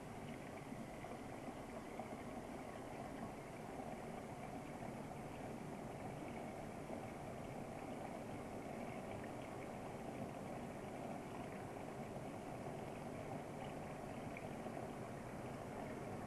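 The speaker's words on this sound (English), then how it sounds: "Alternatively, we can use a pump system," A laboratory pump system providing suction for flash chromatography columns, a steady low mechanical hum and drone, faint and unchanging for the whole stretch.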